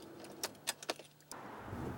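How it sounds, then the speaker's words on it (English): A car on the way to a grocery store, heard from inside: a few jangling metallic clicks and rattles, then a steady low engine and road rumble takes over, no voices. "Bev is driving to the grocery store."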